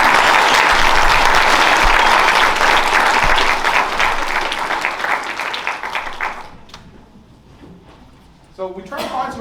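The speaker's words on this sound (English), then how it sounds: "give a round of applause for these wonderful teams" A concert audience at a varsity band pre-contest concert applauds the band teams with dense, loud clapping that fades after about six seconds, leaving scattered claps before a voice speaks near the end.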